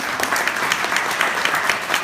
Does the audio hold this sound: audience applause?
yes